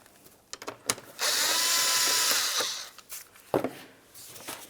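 A cordless power tool whirs for about two seconds to loosen an 8mm clamp by the air filter box of a 2003–2011 Mercury Grand Marquis, close and loud, with clicks and clanks of handling before and after.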